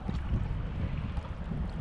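Strong wind roars and buffets the microphone in a constant low rumble on an alpine lake, with faint splashing water beneath.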